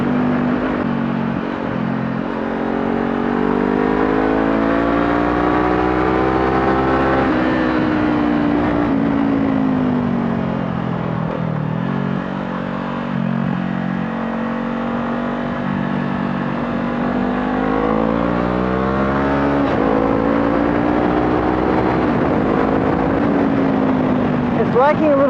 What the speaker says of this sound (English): This is a 500cc Lambs approved bike.